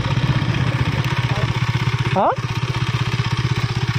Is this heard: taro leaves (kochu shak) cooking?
no